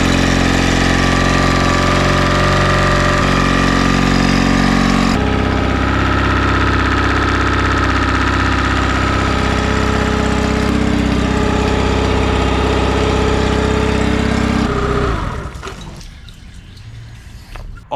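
A cheap knockoff Yamaha four-stroke outboard motor runs steadily on a Tohatsu fuel pump, its loud continuous mid-pitched drone holding for about fifteen seconds before abruptly cutting out, leaving faint sounds.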